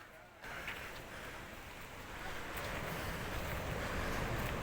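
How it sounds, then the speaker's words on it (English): Sea waves at one of the most dangerous beaches in Colombia, in Tayrona Park, a broad rushing surf roar that swells louder over the clip, mixed with wind buffeting the microphone. "The power of the sea, and this is one of the most dangerous beaches in Colombia."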